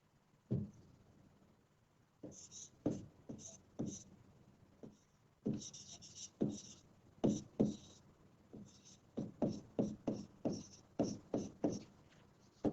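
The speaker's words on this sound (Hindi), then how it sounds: "तो सबसे पहले हम हेडिंग लिखेंगे एकोमोडेशन, इसको कैपिटल लेटर्स में लिख लेते हैं।" Chalk or marker writing a heading in capital letters on a classroom board, a series of quick close scratching strokes in uneven rhythm, with brief pauses between letters.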